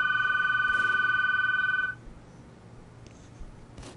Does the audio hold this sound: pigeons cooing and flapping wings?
no